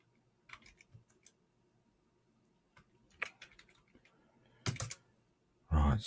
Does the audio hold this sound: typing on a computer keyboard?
yes